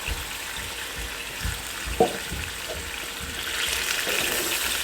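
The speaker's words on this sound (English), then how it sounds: "Now I'm going to add this tomato. This is the canned tomato. At the same time, I'm going to add this Roma tomato." Canned tomatoes and fresh Roma tomatoes go into a hot frying pan for shakshuka, giving a continuous sizzling hiss with a soft wet plop partway through and the hiss swelling slightly louder toward the end.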